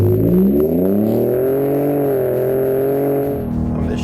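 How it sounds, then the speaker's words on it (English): A 2017 Ford F-150 Raptor pickup's turbocharged engine while driving, a loud steady drone with rising and falling harmonic pitch as it accelerates through gears, a high whine running above. "now you're getting that turbo sound"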